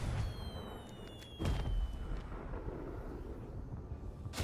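Fireworks launched in a video game, with a mix of portal and spinning shells: a deep booming burst near the middle stands out over a steady low rumble, with thin whistling streaks trailing through the air.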